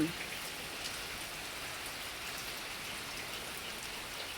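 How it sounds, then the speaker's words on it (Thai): Steady rain falls outdoors in rural Thailand, a dense even patter of drops on surfaces holding at a constant moderate level throughout. "ชมบรรยากาศฝนตกจะไปเนาะ"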